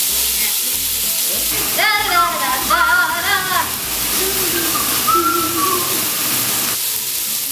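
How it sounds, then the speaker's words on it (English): Beef browns in a pot for beef bourguignon with a loud, continuous sizzle, while a voice talks briefly over it. "the meat's been browned, and it took us several batches to get through all of it"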